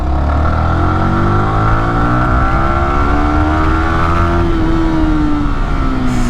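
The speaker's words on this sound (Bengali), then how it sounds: "একটু হাই আরপিএম এ রেভ করে আপনাদেরকে আসলে সাউন্ডটা শোনানোর ক্ষুদ্র প্রচেষ্টা ছিল" A Yamaha R15 V3 motorcycle engine revs hard at high rpm in second gear after a full service, a loud steady whine with rising and falling harmonic tones and no talking.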